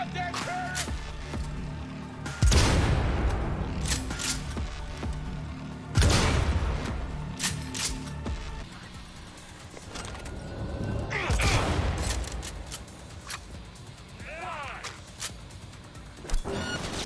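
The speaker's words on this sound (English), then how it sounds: "I'm shooting this loud ass gun" Gunfire from the best gun in Cyberpunk 2077 comes as a few loud, heavy bursts separated by seconds, with mechanical clatter and a background game soundscape between them.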